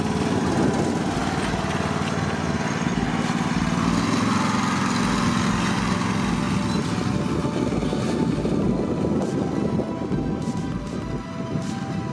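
A John Deere riding mower engine runs steadily and loud, a continuous close drone with no pauses, heard on its own.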